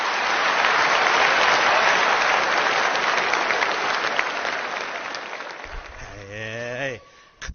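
A large audience claps in sustained, dense applause that slowly fades, followed near the end by a voice speaking and a short tonal sound as the clapping dies away.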